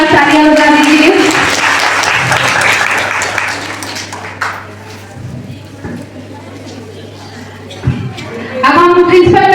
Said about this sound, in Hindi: इनके लिए एक बार जोरदार तालियां बजा दीजिए